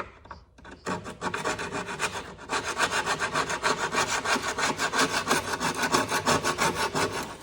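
Wooden furniture under restoration being rubbed down by hand: a steady run of close, loud, rhythmic scraping strokes, rasping like sandpaper or a file on wood, continuing without pause after a short quiet start.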